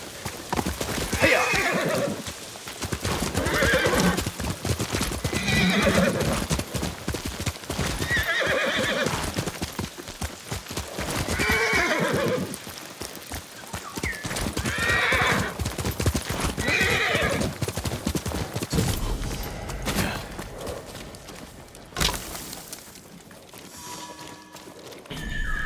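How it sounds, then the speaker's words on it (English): Horses flee a burning village in a video game: loud, repeated neighs and screaming whinnies ring out over continuous hoof clatter, ending in a rumbling burst near the end. "Saw horses fleeing Komoda. Their manes were on fire."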